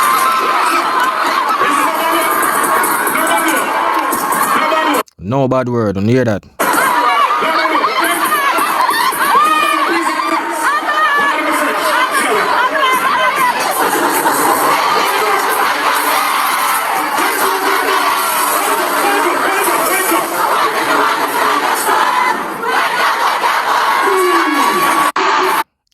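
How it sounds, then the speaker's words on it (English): A large crowd of over 20,000 cheers and screams loudly and continuously at a dancehall concert in Guyana, with high-pitched shouts throughout and a brief drop near the start where one voice calls out. "So now go see the real crowd reaction"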